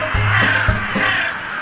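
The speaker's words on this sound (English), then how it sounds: "The birds would fly in from all around. to roost for the night on its branches." Crows cawing as birds fly in to roost for the evening, two loud, harsh caws close by in quick succession over a steady background hum.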